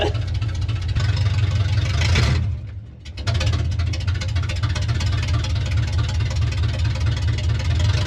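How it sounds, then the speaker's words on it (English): A 1964 Ford F100 with a swapped engine idling, its leaky exhaust giving a loud, steady low rumble with a brief dip partway through before settling back into the same even idle. "Oh man, the exhaust leaks so bad."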